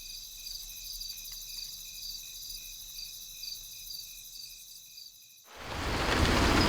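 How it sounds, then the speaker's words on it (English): Heavy rain suddenly starts pouring down outdoors, rising to a loud, steady broadband hiss that follows a quieter stretch of insect or cricket chirping over low rumble. The thunder itself is not clearly distinct. "a little bit of thunder, and it's starting to pour down with rain"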